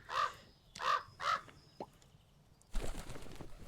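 A crow in the game Pumpkin Panic gives three loud, close caws in quick succession, followed by a brief pause and then a soft rustling, noisy wash of game ambience.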